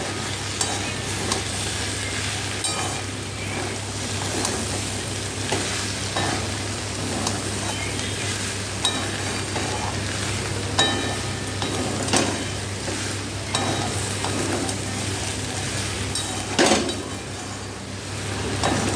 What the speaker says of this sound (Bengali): এবার এটা ভালো করে কষিয়ে নেব।